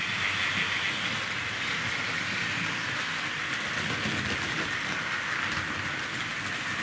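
Tri-ang Super 4 model railway locomotive, a Southern Region M7 tank engine, running around a home layout, giving a steady, continuous rolling rush and whirr at close range for the whole stretch, with no voices.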